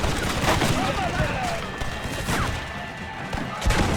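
A Red Dead Redemption gunfight with machine gun fire: sharp shots and thudding bursts strike at intervals amid a shouting voice and chaotic battle noise.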